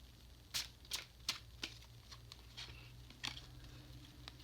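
A brand-new, stiff tarot deck being shuffled, heard as faint, scattered riffling flicks and soft card slaps in short irregular bursts over a quiet background.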